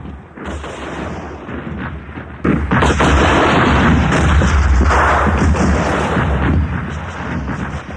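Heavy cannon fire from a naval battle booms in rapid, overlapping volleys, a dense roar of blasts that swells louder partway through and keeps rumbling throughout.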